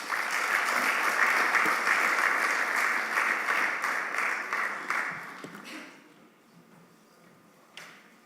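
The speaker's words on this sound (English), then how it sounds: "we could do better than that in applauding the previous speaker" A workshop audience applauds steadily for about five seconds, a dense wash of claps that then fades out quickly into near quiet, with a single brief knock near the end.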